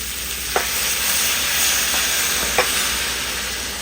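Liquid hits a hot skillet of ground beef and potatoes, bringing a loud, steady close sizzle with two brief sharp scrapes of a spoon against the pan.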